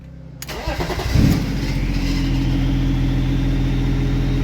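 A BMW E36 with a swapped-in M57 diesel engine cranks briefly, fires up, and settles into a steady, even idle with a deep continuous rumble, close and loud, with no talking.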